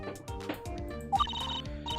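An older mobile phone attached to a scooter rings with a short electronic ringtone, repeated melodic tones and chirps over about two seconds, moderately loud with no speech.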